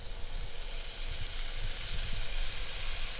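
Filet mignon sears in a very hot, lightly smoking pan with olive oil, a steady close hiss of sizzling fat running alone at moderate level.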